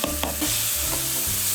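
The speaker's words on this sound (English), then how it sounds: "So at this stage we add our soffritto." Soffritto tipped onto sizzling browned meat for Bolognese gives a loud hiss and crackle, with a couple of quick stirring knocks near the start and a steady fry to the end.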